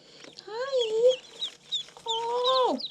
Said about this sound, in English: one very cute little yellow duckling